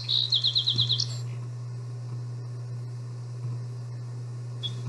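A quick series of high chirps from a single bird, about seven rapid notes in the first second, followed by a steady low hum and faint background noise.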